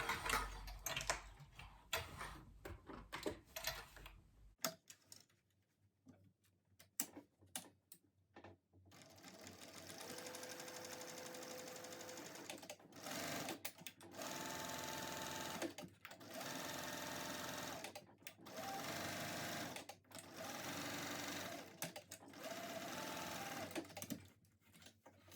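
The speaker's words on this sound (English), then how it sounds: "So I'll start by sewing together the bottom with a 1/2 inch seam allowance." A close sewing machine stitches the bottom seam of a tote bag with a half-inch seam allowance, running in repeated steady bursts of rapid mechanical whirring with brief stops between them.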